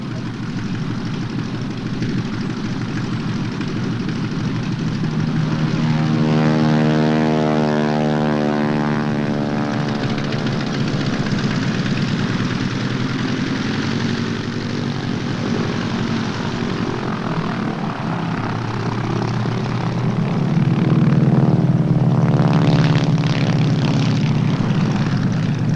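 A propeller airplane drones loudly overhead as it comes in for an airmail pickup at an aerodrome air show, its engine tone rising and falling as it passes, steady and close throughout with no talk.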